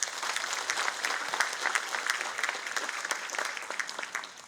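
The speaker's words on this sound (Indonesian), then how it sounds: "Tepuk tangan untuk kita semua." An audience at a school anniversary ceremony gives steady, dense applause with crisp individual claps audible, holding at a fairly even level before easing slightly at the end.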